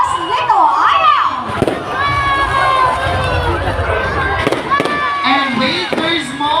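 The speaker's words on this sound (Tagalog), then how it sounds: "May fireworks si JNY!" Fireworks explode at a plaza opening, with sharp bangs and crackles scattered through a loud, continuous din of a cheering crowd and shouting people.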